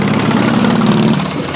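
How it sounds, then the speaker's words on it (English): A motorcycle engine idles close by on a city street, a steady low rumbling throb that holds even for over a second before easing slightly. "Look at this motorcycle."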